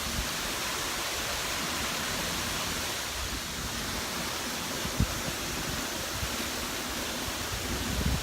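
A waterfall on a hiking trail in Guam, a steady broadband roar of falling water that stays even and continuous for the whole stretch, with no voices over it.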